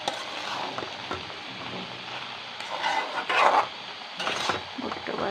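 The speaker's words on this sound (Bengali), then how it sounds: "ভুট্টা ভাজা হয়ে আসছে" Corn sizzles and crackles as it fries and is stirred in a pan, a steady soft hiss with a few louder scraping bursts toward the middle and end.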